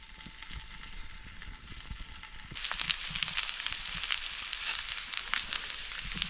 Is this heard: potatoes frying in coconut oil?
yes